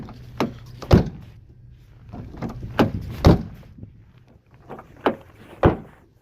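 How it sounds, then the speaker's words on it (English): A car door in freezing sub-zero cold with a faulty latch is slammed repeatedly, about seven hollow thuds at irregular intervals, each with a rattling bounce as it fails to catch. "my door doesn't fucking latch."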